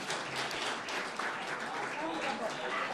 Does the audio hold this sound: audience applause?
yes